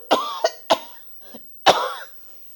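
A person coughs several times in quick harsh bursts, then a softer throat-clear and one last heavy cough, close and alone.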